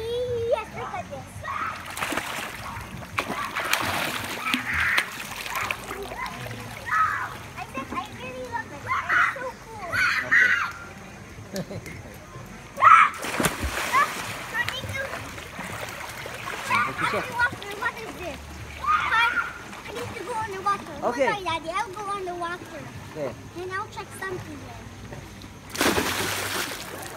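A child jumps into a swimming pool at night, with repeated splashes and sloshing water under frequent talk from an adult and the child, and one sharper splash near the middle.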